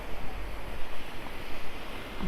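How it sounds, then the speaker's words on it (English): Sea waves wash and rush at Looe harbour among moored yachts, a steady broadband surf with gentle swells, mixed with some wind buffeting on the microphone. "Lots of yachts, and there's the sea."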